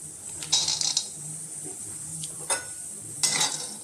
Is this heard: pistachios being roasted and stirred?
yes